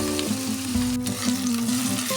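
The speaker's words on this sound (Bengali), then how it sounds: "এই পেঁয়াজগুলো আমি নুন ছাড়া গ্যাসের আঁচ বাড়িয়ে একটু নরম করে নেব" Onions fry without salt in a pan over a raised gas flame, giving a steady close sizzle with light stirring scrapes throughout and no talking.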